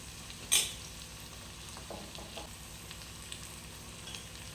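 A capsicum and tomato curry with chili powder fries in a pan with a faint, steady sizzle, broken by a sharp utensil clink near the start and a few soft stirring scrapes.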